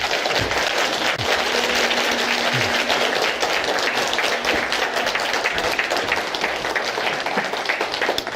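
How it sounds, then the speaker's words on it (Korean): Sustained applause from a seminar audience welcoming a professor to the stage at a 2024 Korean economics lecture: dense, steady clapping that fills the whole stretch at a fairly loud level, with no speech over it. "박수로 환영해 주시기 바라겠습니다"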